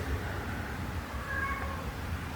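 A pet cat meows from downstairs, calling up from a couch in a house: drawn-out, plaintive cries heard at a distance over a steady room hum.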